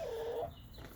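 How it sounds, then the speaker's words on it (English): A Brahma chicken gives a short, close cluck, a single brief call that fades into quiet yard background. "Brahma chicken."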